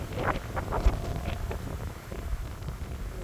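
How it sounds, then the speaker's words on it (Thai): Strong wind gusting across an open vineyard, a steady loud roar and buffeting on the microphone that runs throughout without letting up. "ลมแรงนะคะลมแรงมาก"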